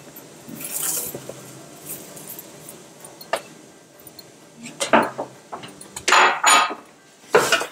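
Tomato, thyme and shrimp are stirred in a cooking pot, giving scattered scrapes and light metallic clinks that come closer together and louder toward the end, with no talking.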